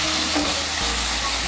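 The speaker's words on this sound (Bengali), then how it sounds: "এখন আমি এর মধ্যে দিয়ে দেব কেটে রাখা আলু।" Cut potato pieces tumbling into fried spice paste for Bengali chhola ghugni, a dense close sizzle with a brief clunk and a deeper shift as they land, frying steadily on.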